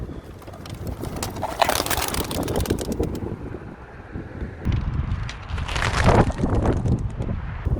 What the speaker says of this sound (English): It's getting a bit windy.